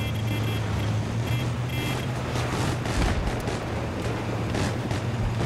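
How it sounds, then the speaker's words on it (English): ATV engine running in a Battlefield video game, a steady loud motor drone with gunfire and explosions crackling throughout the battle mix. "Dude, I'm on an ATV."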